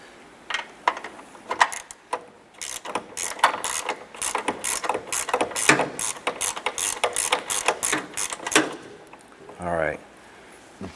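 A hand ratchet clicks rapidly in repeated bursts as a front strut bolt is removed from a 2007-2012 Nissan Versa, loud and close, and a voice is heard briefly near the end.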